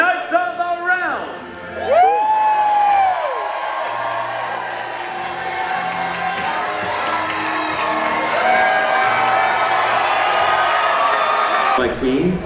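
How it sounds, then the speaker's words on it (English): A large indoor crowd at a Medieval Times dinner tournament cheers, whoops and shouts for the knights, a sustained roar with music beneath it, following a loud announcer's call. "My lords, my ladies, raise a cheer for the Knights of the Realm!"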